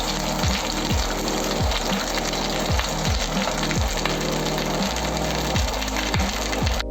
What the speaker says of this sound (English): I'm gonna sear on all 4 sides